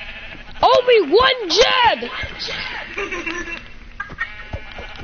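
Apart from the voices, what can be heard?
sheep bleating in a video game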